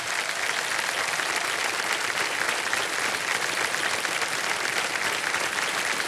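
A studio audience on the TV quiz show Kaun Banega Crorepati applauds, producing loud, dense and continuous clapping that stays even and unbroken throughout.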